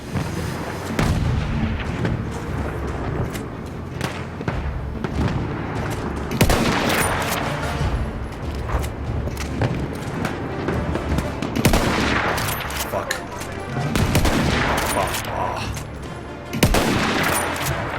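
Battlefield 1 gunfire in a sandstorm battle: dense, continuous bursts of rifle and machine-gun fire with heavy booming artillery blasts, loud and close, sharp cracks spiking repeatedly across the whole stretch with no talk.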